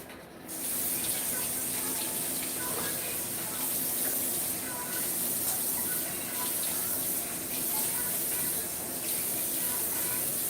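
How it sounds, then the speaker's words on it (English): Warm water runs steadily from a bathroom tap as lips are rinsed, a constant, moderately close splashing hiss that begins after a brief pause and continues without break. "And then I just rinse it with warm water."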